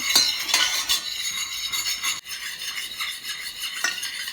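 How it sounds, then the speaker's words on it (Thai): A utensil stirs and scrapes inside a pot of water with agar powder in quick, rhythmic swirls, a close, steady rasping sound with no talking. "คนให้ผงวุ้นละลายนะคะ"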